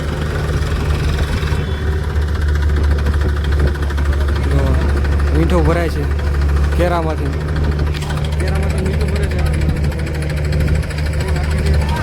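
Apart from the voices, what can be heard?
tractor engine idling while being loaded with salt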